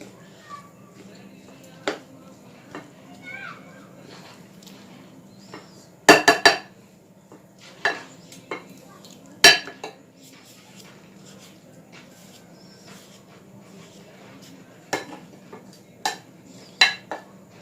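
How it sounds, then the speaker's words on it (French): A spoon works through spiced bread stuffing in a bowl, with soft scraping and scattered sharp clinks against the bowl at irregular moments over a steady low background hum. "Bien mélanger pour que les épices s'en prennent partout, sur toute la farce."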